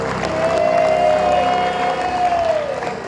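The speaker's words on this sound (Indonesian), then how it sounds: "Tepuk tangan untuk Gracia." A game show studio audience on Family 100 claps and cheers in a short, loud burst, with a sustained tone ringing over the applause.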